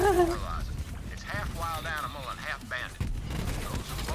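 Enemy gunfire in Borderlands 3, a rapid steady rattle of shots with booming impacts throughout, underneath a voice speaking over the action.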